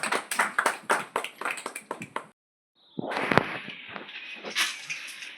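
A church congregation at a Christmas service claps in a quick, rhythmic run of sharp claps, then falls silent briefly before a louder, more scattered burst of clapping and crowd noise returns.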